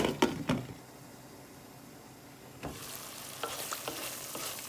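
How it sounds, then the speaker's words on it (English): Masala frying in oil in a pan for an eggplant and potato curry, with stirring clatter at the start, a quieter simmer, then a steady hiss of sizzling broken by scraping strokes. "Then cook again till the oil separate."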